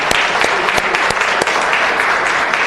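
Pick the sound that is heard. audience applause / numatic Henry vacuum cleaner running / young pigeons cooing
audience applause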